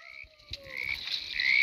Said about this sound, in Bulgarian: Жаба!